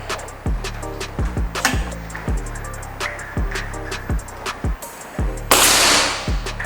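A rapid series of sharp, snappy SR Stainless Series air rifle shots with clicking between them, followed by a brief hiss of air near the end; no talking.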